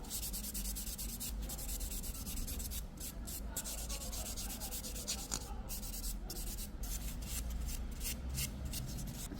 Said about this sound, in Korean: 네, 쉐입 다 했으면 샌딩 작업해 줄 거예요.